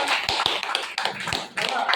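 A group claps for Gawande sir, with brisk, fairly loud hand claps in quick bursts and voices mixed in.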